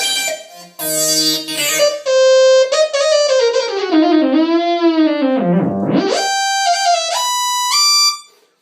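Casio XW-P1 synthesizer keyboard plays a bright buzzy lead with effects and sweeping pitch bends that dive low and rise again, loud and close, no talking.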